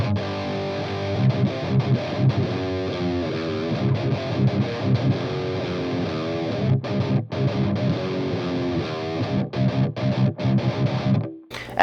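Electric guitar through a Boss Metalcore distortion pedal in the effects loop plays heavily distorted chugging riffs and sustained chords, loud and dense, lacking highs, with brief gaps between phrases and a sudden stop at the end.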